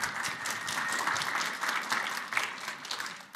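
Audience applause from a crowd at a talk, steady and fairly loud throughout with a small swell near the end, no voices over it.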